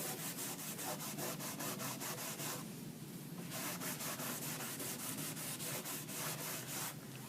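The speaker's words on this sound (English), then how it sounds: "we'll simply rub it on there on the floor where we lightly sanded" WOCA oil finish rubbed by hand onto a lightly sanded wood floor, a quiet, steady run of rhythmic scrubbing strokes with a brief pause partway through.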